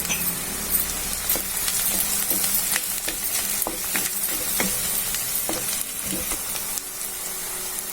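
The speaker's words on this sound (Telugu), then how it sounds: "చూడండి, ఉల్లిపాయలు వేగాయి." Onions frying in a pan for a gongura onion curry, giving a steady close sizzle with scattered crackles and pops and a few stirring scrapes throughout, with no talk.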